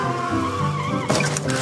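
A cartoon scooter skids along a road just before crashing: a steady engine-like drone with a brief burst of rougher, brighter scraping noise near the end, fairly loud and with no talking.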